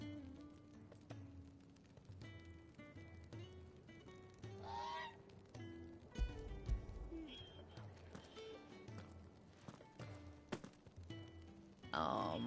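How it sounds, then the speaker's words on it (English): Chocobo birds honk in Final Fantasy 16, repeated goose-like honks in a steady series over game music, with a few clopping footsteps and one louder burst partway through. "These birds are needy creatures."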